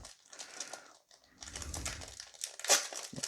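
Scissors snip open a Pokémon Astres Radieux booster pack with close, crisp crinkling of the foil wrapper and a sharp cut near the end, no one speaking.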